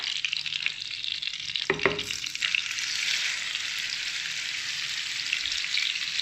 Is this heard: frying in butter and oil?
yes